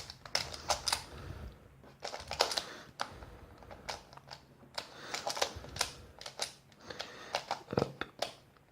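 Skewb puzzle being scrambled by hand: rapid plastic clicks and clacks in quick irregular bursts, close and moderately loud, with no talking.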